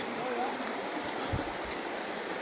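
A steady rushing roar of falling water fills the air while approaching the Suptadhara waterfall on a trek, loud and continuous, with a brief low thump partway through.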